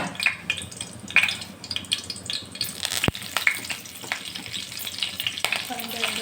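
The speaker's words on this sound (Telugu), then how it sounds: "ఆయిల్ అయితే వేడైంది ఇప్పుడు జీలకర్ర ఆవాలు అలానే కొద్దిగా కరివేపాకు" Cumin, mustard seeds and curry leaves sizzle in hot oil for drumstick leaves dal, a loud close crackle full of sharp popping spatters and one hard clack midway, with no talking.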